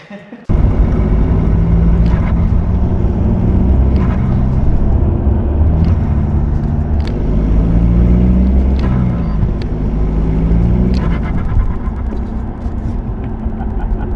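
An Audi A4 B6 Avant 1.9 TDI with an aftermarket air filter rumbles loudly and steadily from close by, its tone rising and falling through several revs, with a brief quiet moment before it starts.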